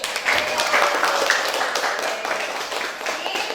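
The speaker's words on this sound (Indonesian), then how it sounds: "Tepuk tangan dulu." Classroom applause from a group of students after they succeed at a server configuration exercise in Cisco Packet Tracer, steady clapping throughout with a little background noise.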